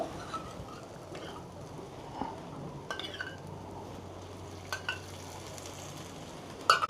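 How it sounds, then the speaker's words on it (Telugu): Oil sizzles quietly in a pan while street-style egg noodles cook, a soft continuous frying hiss broken by a few faint clinks and taps of a utensil against the pan, no speech. "అదే కాస్త నేను ఆయిల్ వేస్తున్నా."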